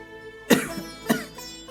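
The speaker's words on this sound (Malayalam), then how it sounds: "ഓ, എന്തൊരു ചുമ." Two harsh coughs about half a second apart, close and fairly loud, with no talking.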